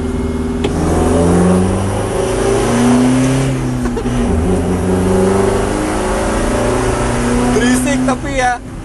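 A vegetable pickup truck accelerates hard on the Mandalika circuit, its mid-pitched engine rising steadily and droning loudly, with a brief rattle near the end.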